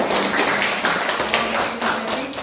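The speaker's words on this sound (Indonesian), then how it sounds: "kita berikan tepuk tangan yang meriah" Classroom clapping from students applauding a classmate after a group presentation during a teaching-practice lesson: a busy, close patter of many hands that runs throughout, with a faint voice underneath.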